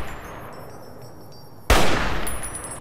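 Gunfire in the Fallout New Vegas video game, in the Big MT north tunnel: one sudden loud shot bursts in after quiet game ambience, leaving a dense roaring tail with a faint ringing tone near the end.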